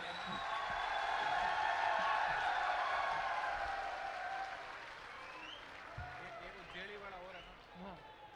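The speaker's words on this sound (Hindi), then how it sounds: "एक बार जोरदार तालियां बजा करके" A big crowd at a political rally in Salasar claps loudly, a broad roar of applause that swells then gradually thins, with talking over the top in its latter half.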